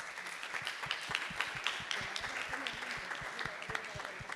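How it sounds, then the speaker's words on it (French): Steady applause from a lecture audience after a round-table discussion, many close, sharp hand claps in a continuous rhythmic patter that holds level for several seconds. "je pense qu'on peut les applaudir tous."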